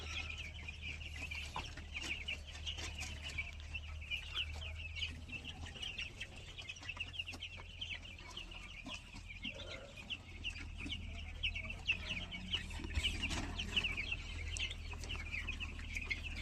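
Chickens clucking in a shed on a sand floor, a continuous soft chorus of clucks and chirps from a flock at close range, with a low steady hum underneath and no talk.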